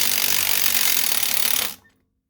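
A Milwaukee power tool removes the top bolt on a CJ-7 axle, a loud steady high-pitched impact rattle running close by for under two seconds before cutting off abruptly.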